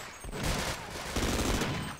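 Rapid, loud gunfire bursts in the Half-Life co-op mod Sven Co-op, shotgun blasts mixed with overlapping shots in quick succession, close and harsh, with players talking faintly underneath.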